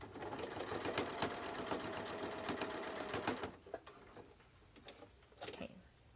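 Top stitching on a fabric face mask, a sewing machine hums and ticks rapidly up close for about three and a half seconds, then halts, followed by faint handling clicks.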